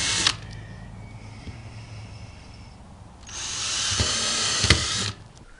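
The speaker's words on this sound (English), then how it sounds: "I'm going to screw the center of every one of these." A power drill drives screws into a homemade TV antenna board: a short whir at the start, a pause with faint background hum, then a longer, louder burst of drilling ending abruptly with a clunk.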